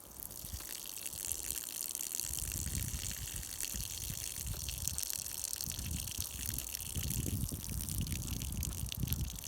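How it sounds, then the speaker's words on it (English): Water is poured slowly off soaked grain in a container, a continuous close gushing and trickling stream with a steady level throughout. "Now I can pour the water off slowly"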